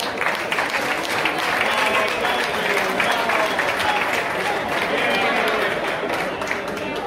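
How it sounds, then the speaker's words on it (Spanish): Loud applause from the crowd at a golf tournament prize ceremony in Llanes, continuous dense clapping with some murmur and voices mixed in, close and sustained throughout. "un fuerte aplauso para Charlie"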